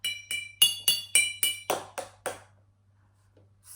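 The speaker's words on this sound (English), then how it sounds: "my jug is plastic, so it's not going to make a big ping, but it'll make a nice kind of drum sound" Plastic jug tapped like a drum, about nine quick, evenly spaced hits that speed up slightly and then stop, bright and close with short decays, followed by near silence.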